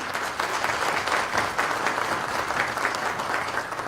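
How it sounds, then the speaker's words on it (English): Steady, fairly close audience clapping at a technology conference in Namibia, many hands together at an even intensity for a few seconds. "Please give another round of applause."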